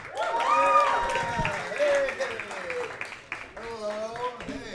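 A comedy club crowd claps and cheers for a comedian at a pro-am stand-up night, a rough burst of applause and whoops that fades as a voice talks over it on the mic.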